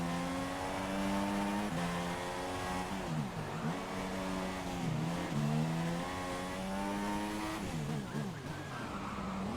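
A Formula One car in the F1 2016 video game laps Monaco on ultra soft tyres, its high, close engine whine climbing and dropping through repeated gear shifts and braking.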